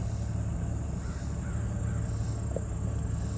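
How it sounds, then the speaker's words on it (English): Crows perched in a tall bare tree give a few scattered caws, heard at a distance over a steady background hum. "I heard them caw."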